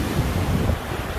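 Ocean surf at Daytona Beach at night washes in a steady broadband rush, close to the microphone and mixed with wind buffeting, with no voices.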